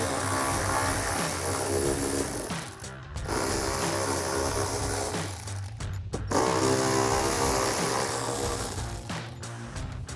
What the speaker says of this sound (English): So we'll grab our 10mm socket to take these out.